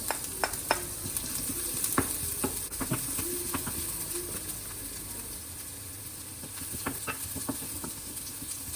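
Chopped onions stir-fry in hot oil, a steady soft sizzle with scattered clicks of stirring against the pan, fairly faint and close, no talking.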